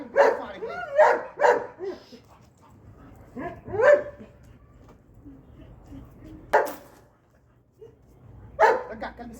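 A dog barks in short, sharp bursts, several quick ones early and then isolated barks spaced seconds apart, loud and near, with quiet gaps and faint background noise between them.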